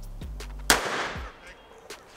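A .357 revolver fired at a row of chickens makes a single sharp, loud shot that decays quickly, with a faint second pop shortly after.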